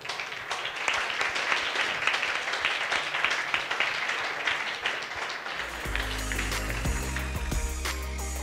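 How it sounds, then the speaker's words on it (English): Conference audience applauding at a G7 forum on North-South cooperation, a brisk wave of many hands clapping for several seconds before it cuts off into a quieter room tone with a faint tonal hum. "I would ask you to join me in applauding"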